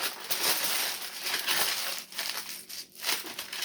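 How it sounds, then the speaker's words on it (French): Aluminium foil is crumpled by hand to shape decorative sails for a cake, giving close, crackly crinkling and crushing bursts that come in waves with brief lulls. "Excusez-moi s'il y a trop de bruit pour l'aluminium."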